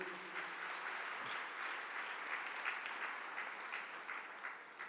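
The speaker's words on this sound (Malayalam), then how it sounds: "ഒന്ന് കൈയുയർത്തി കൈയടിച്ച്." A congregation at a church sermon clapping their hands, a broad, sustained roar of many people applauding together at even loudness, with faint rhythmic pulses in the crowd.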